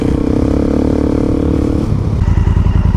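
Two motorcycles, a KTM 690 Enduro R and a Honda Africa Twin, ride along a no-through road in Victoria's Wimmera, their engines droning loud and close with a steady low rumble that shifts into throbbing pulses near the end.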